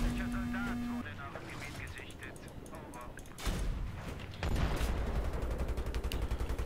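Tank cannon and gunfire in the video game Battlefield 3, loud bursts and explosive booms layered with continuous battle noise, a strong blast near the middle and sustained heavy rumble afterward.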